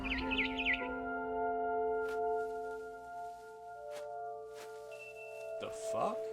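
Brief, bright chirps from a barn swallow in the video game What Remains of Edith Finch open the scene over sustained tonal game music, then fade as the music continues.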